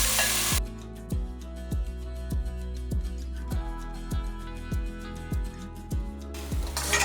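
Mushroom curry masala with cashew paste sautéing in a pan, a thick low sizzle under a steady series of about a dozen evenly spaced spatula thumps and scrapes, close up.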